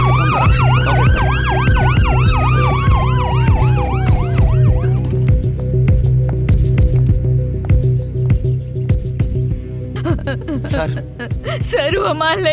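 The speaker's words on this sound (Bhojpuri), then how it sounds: "गोपी, एम्बुलेंस को फोन करा।" An ambulance siren wails loud and close in a dramatic film scene, its rising and falling tone sweeping for several seconds before cutting out, leaving scattered clicks and rustles.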